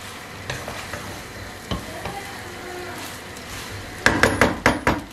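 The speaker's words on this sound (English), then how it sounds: "After mixing it like this, you can make use of this and mix it like this so all masala gets fully penetrated into it." Egg chow mein noodles stirred with masala in a pan over high flame, a continuous sizzle with scattered scrapes that give way to a rapid burst of loud metallic tossing clatter near the end, with no talking.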